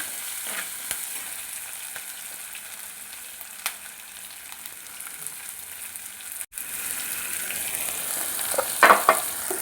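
Crushed shallots, ginger, chillies, garlic and curry leaves sautéing in hot oil for a Kerala fish curry, giving a steady close sizzle throughout with a few small clinks and stirring scrapes.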